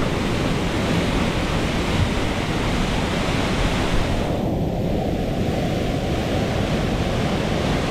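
High-water whitewater on the West Cherry river roars as a dense, constant rush close to the microphone, steady and unbroken with no voices.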